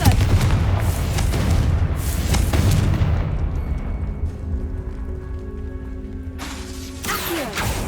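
A Confringo blasting spell in Hogwarts Legacy goes off as a loud, booming explosion with a rumbling crackle that slowly fades. A brief burst of noise follows near the end.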